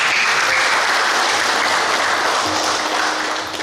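A crowd of attendees claps steadily and loudly throughout at an organization meeting and installation of officers, a dense sustained round of applause that tapers slightly at the end.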